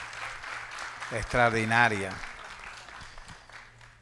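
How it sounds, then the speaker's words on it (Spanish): Audience applause for a speaker at a national social security congress, a moderate, steady clapping texture running through the clip while a voice briefly speaks over it. "Nuevamente un aplauso para nuestra ponente."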